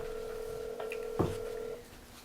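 A telephone on speakerphone in a meeting room gives a steady tone and then a short dialing beep with a click, faint and alone.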